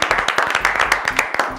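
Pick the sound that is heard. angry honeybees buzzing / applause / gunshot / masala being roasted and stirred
applause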